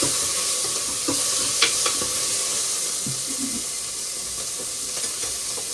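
Chopped tomatoes frying in a pan for mutton chops, stirred now and then: a steady close sizzle with occasional soft scrapes and clinks of the spoon, no voices.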